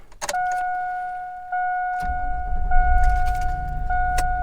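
The engine of a Chevrolet Tahoe cranks and catches on a newly installed starter, after a keys jingle and a steady door-chime tone, then settles into a low, rumbling idle close by.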